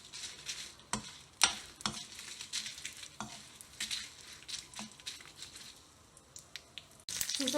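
Curry leaves with green and red chillies frying in oil in a pan, a soft sizzle under repeated stirring scrapes and clacks of a spoon, close and quiet, a louder sizzle surging at the very end.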